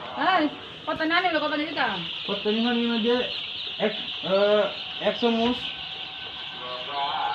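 Chickens cluck and squawk close by in repeated bursts, their calls rising and falling over a steady background hiss.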